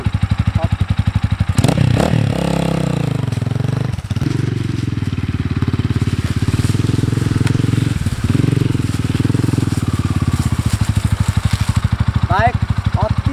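A 2020 Asian Beast 250 motorcycle engine idles with a rapid, steady loud throb and rises in a couple of revving swells, recorded up close with a voice talking over it briefly.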